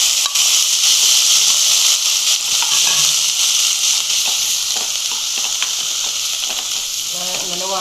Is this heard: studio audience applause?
no